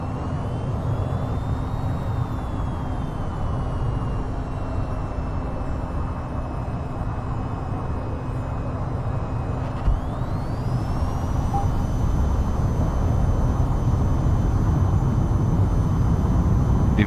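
An F-45A jet in the flight game VTOL VR spools up for takeoff on a runway, a steady engine roar with a thin whine that climbs sharply in pitch partway through, heard alone without talk.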